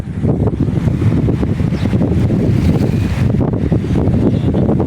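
Strong wind blasts outdoors during a pigeon toss, a loud, constant roaring buffet across the microphone with no pause and no voices.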